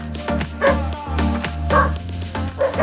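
Several dogs bark and yip in quick, overlapping bursts after chasing a cat in rural Jamaica, close and lively, with a few whimpering tones between barks.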